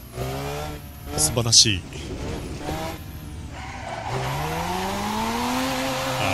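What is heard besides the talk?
Mazda RX-7 FC3S car driving in Assetto Corsa video game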